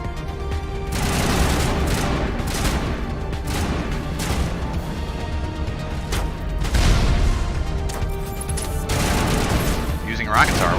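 Rocket and weapon fire from the video game Mass Effect, a dense run of booming blasts and crashing impacts spread across the whole stretch, loud and continuous with bursts near the start, middle and end.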